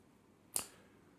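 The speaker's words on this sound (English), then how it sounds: "Get the scissors out on here, just as a bit of a comparison." Scissors being opened on a brand new Leatherman Curl multitool give a single crisp metallic click, quiet and close, in an otherwise silent moment.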